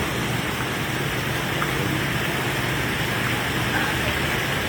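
Heavy rain pours down in a steady, dense hiss that fills the whole stretch evenly, with no pauses and nothing standing out above it.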